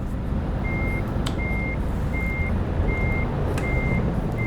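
Truck reversing in Euro Truck Simulator 2, regular high beeps repeating about every three-quarters of a second over a heavy engine drone, with a couple of brief clanks, and no voices.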